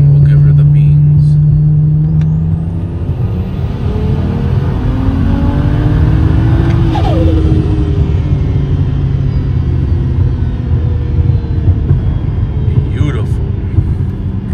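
A single-turbo tuned car pulls hard in third gear from 3000 RPM, its deep engine drone rising steadily and loud from close inside the cabin, with a voice speaking over it.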